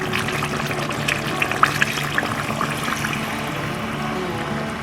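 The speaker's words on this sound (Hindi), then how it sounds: "अब हम इसमें डालेंगे पानी।" Water is poured steadily into a cooking pot while preparing biryani, a continuous close splashing stream with a few small sputters and no talk.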